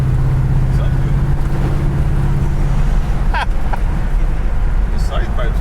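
A steady, loud engine rumble from a moving 1968 Ford Galaxie with side exhaust pipes, a continuous low drone with road noise and a few brief clicks and rattles, heard from inside.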